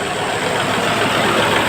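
A Volkswagen Polo engine with a fault, low pickup and black and white smoke idles steadily nearby, giving a continuous broadband hum and rumble with no voices over it.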